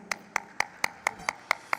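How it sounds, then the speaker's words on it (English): Clapping at a company stock-listing ceremony, heard as a few close, evenly spaced claps in a steady rhythm, about four per second, with little crowd noise behind them. "Can we have a huge round of applause, sir, please?"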